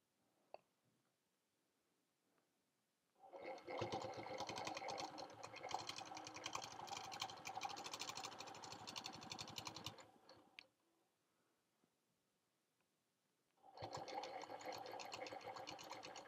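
A sewing machine stitches in the ditch around the tail of a Christmas quilt, running in a long fast steady burst, pausing briefly with light clicks, then starting up again near and clear.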